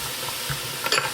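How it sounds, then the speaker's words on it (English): Diced baby carrots go into a hot soup pot for a Caribbean fish chowder, giving a steady frying hiss with a short, brighter crackle and clatter near the end. "Then we're going to add the carrots in."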